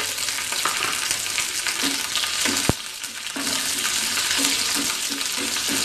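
Steady, loud sizzling of mustard seeds and curry leaves frying in hot oil, crackling continuously with a brief sharp click midway.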